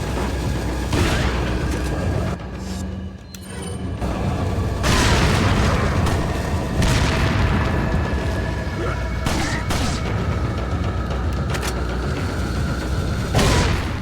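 Repeated loud booms from TNT dynamite explosions in the 2005 video game Resident Evil 4, several heavy blasts over a few seconds amid ongoing game noise, with gunfire-like bursts mixed in.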